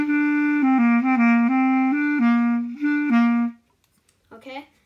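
Clarinet plays the short "let me hear you say A-O" baseball stadium tune, a run of sustained notes of about a dozen pitches, close and clear, with a brief voice at the end.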